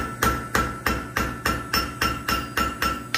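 A cross peen hammer strikes hot steel while a one-piece sea turtle's flippers are forged out, about ten sharp, ringing blows at a steady even rhythm, close and alone.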